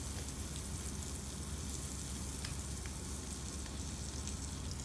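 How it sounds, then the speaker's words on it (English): Butter melts and sizzles in a hot pan alongside browned, crisp-edged basa fish fillets, a steady close-up crackling hiss with small pops and no voices. "At this stage, I will add another cube of butter."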